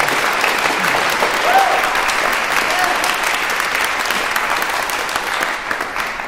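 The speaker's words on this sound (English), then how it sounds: "Big round of applause." An audience at a harp concert claps in a full, steady round of applause that slowly tapers off, with faint voices mixed in.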